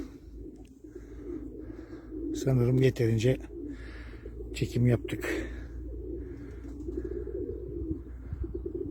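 White Istanbul pigeons coo in soft, low, repeated calls around someone speaking, with a couple of louder throaty bursts close by.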